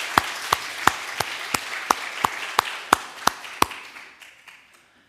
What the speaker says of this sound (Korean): 우리 함께 박수로 하나님 감사합니다.